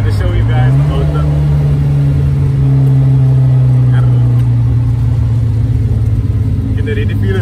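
Engine of a Datsun 1400 pickup revving up and holding a steady, loud drone, with its pitch rising early on, while people talk over it.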